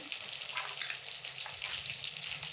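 Pieces of pangas fish fry in hot oil in a pan, giving a dense, steady crackling sizzle with bright spitting pops that runs continuously at close range.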